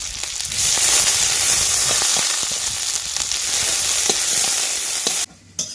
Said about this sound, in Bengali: কড়াই গরম হয়ে গেছে তেল দিয়ে দিয়েছিলাম পেঁয়াজ কুচি দিচ্ছি